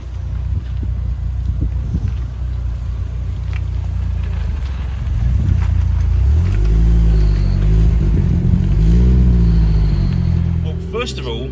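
A modified 460 bhp Mk1 Audi TT quattro sport drives on wet roads. Its engine drones loudly under wind and road noise, then the revs climb and fall in sweeping waves through the gears.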